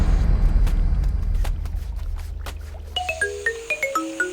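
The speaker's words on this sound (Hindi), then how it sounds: "मुझे क्यों फोन कर रही है?" A mobile phone receives an incoming call in a Hindi-dubbed South Indian action film: after a low rumbling scene, a bright, tinkling ringtone melody starts near the end and repeats in quick, clear notes.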